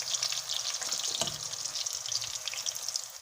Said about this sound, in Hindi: इसको हमने गरम ऑयल में फ्राई करना है